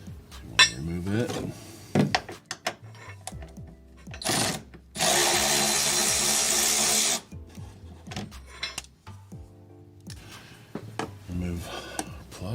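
A power tool removes a bolt on a 2021 Toyota RAV4 during a running board install, giving one loud close buzzing burst of a couple of seconds, surrounded by metallic clinks and handling clatter.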